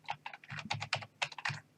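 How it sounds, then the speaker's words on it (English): Rapid keystrokes on a computer keyboard while an IP address is entered, a quick irregular burst of about a dozen crisp clicks, close and alone. "And then you need to type the IP address to the other computer."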